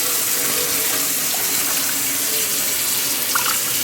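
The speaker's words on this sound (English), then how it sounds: "I just add a little water to the bottom." Tap water runs steadily into a roasting pan holding seasoned jerk pork, a continuous close hiss and splash lasting throughout with no talking.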